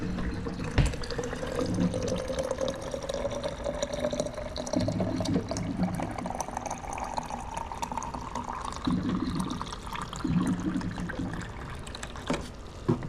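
Water runs steadily from a tap into a bottle, a continuous splashing flow with a faint rising pitch as it fills, no talking.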